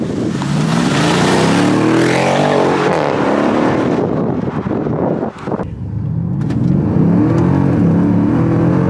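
Mercedes CLS 63 AMG accelerating hard, a loud, close, rising engine roar heard from inside the car, with a short dip in the middle as the revs drop before climbing again.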